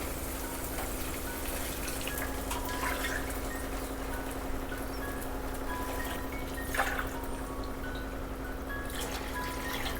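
Water poured into a pot of rice for Hyderabadi bagara rice, a steady soft trickling stream lasting throughout under faint background hum, no voices.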